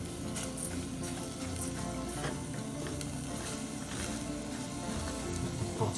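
Butter sizzling in a hot pan for crepes gives a constant crackling hiss, close and steady, speckled with small pops and clicks, and no voice is heard.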